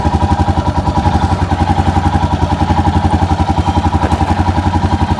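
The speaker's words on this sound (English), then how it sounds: "a bike, certainly a Himalayan, will chug along with no revs, just on the clutch" A Royal Enfield Himalayan adventure motorcycle chugs along in first gear on the clutch with no throttle, its single-cylinder engine giving a steady, close, rhythmic low thumping pulse throughout.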